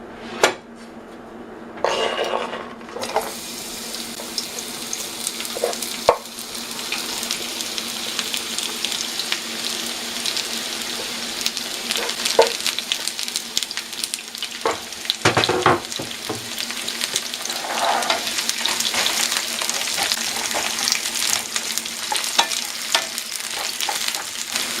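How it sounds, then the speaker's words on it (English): Zucchini fries in preheated oil in a skillet over high heat, a dense, steady sizzle close by that holds throughout, broken by a few utensil knocks and scrapes, with no voices. "So we preheat the skillet with oil and begin frying zucchini."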